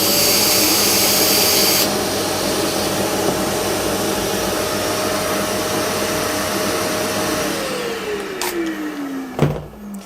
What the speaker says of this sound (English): You just either hit the Bluetooth button on the vacuum, or you can do it on the remote here.